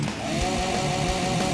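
A Druzhba chainsaw in the video game The Walking Zombie 2 runs in a steady, loud, buzzing drone that holds without pause and is heard alone.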